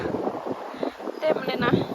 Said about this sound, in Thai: ลมแรง แต่เย็นสบาย